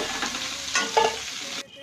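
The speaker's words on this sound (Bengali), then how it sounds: "চিংড়ি মাছটা বেশি ভাজবো না, হালকা লালচে করে ভেজে দেবো।" Shrimp fry in a hot pan, a close, steady sizzle with brief stirring scrapes and a short louder burst before the sound cuts off near the end.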